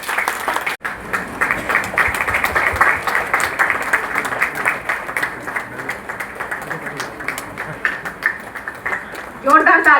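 An audience at a Garhwali film launch event in New Delhi breaks into sustained, lively applause after a trailer, many hands clapping in a dense continuous patter, with a voice rising over it at the close.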